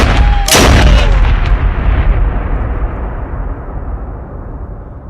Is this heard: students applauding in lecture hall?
no